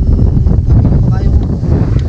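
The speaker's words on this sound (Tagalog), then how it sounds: "Sarap ng hangin." Strong wind buffets the microphone with a loud, continuous low rumble and roar, gusting steadily throughout.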